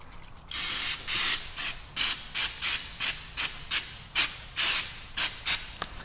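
An aerosol can of Goof Off solvent sprays onto a Samsung Galaxy S9 phone in a series of short hissing bursts, about a dozen quick spurts with brief pauses, close and clear with no voices.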